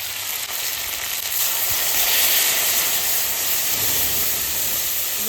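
Water poured into a hot pan with cumin and green chilli gives a loud, steady, broadband hiss and sizzle of steam that holds evenly throughout, alone with no voices.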